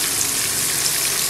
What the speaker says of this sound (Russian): Вторая порция шкварчит.